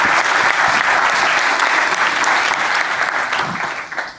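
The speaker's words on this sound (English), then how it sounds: "give him Thank a warm you applause" A warm round of audience applause for a speaker at a startup demo day, dense steady clapping throughout that tapers slightly at the end.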